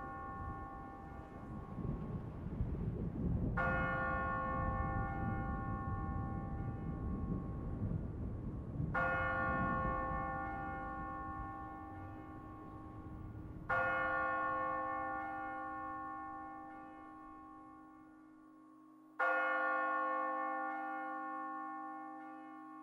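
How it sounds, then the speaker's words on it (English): Large bells toll in the Persona 3 video game, four deep, resonant strikes spaced several seconds apart, each ringing out and slowly decaying, the first rising over a rumbling low background that fades away. "there are no words spoken, just the sound of bells ringing"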